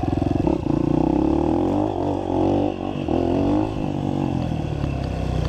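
A motorcycle engine revs and drones loudly in first gear, a steady close rumble with a brief dip in the middle, no talk over it.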